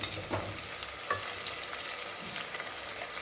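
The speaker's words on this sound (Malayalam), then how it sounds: "ഉള്ളി വഴറ്റി എടുക്കുമ്പോൾ അതിൻ്റെ കൂടെ തന്നെ നമ്മൾ ഇഞ്ചി വെളുത്തുള്ളി പേസ്റ്റും കൂടെ ചേർക്കണം" Onion sautéing in a pan with ginger-garlic paste for tomato rice, a soft steady sizzle with a few stirring scrapes, short and close, no voices.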